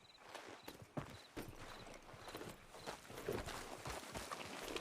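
Horse hooves in Red Dead Redemption 2 clip-clop steadily at a brisk gait, a close, rhythmic series of thuds over ambient outdoor noise, with no talk.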